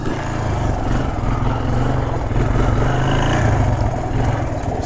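A Honda Foreman 400 ATV engine lugging at low revs in fifth gear gives a steady, close, throbbing drone with a faint mechanical clatter and no pauses.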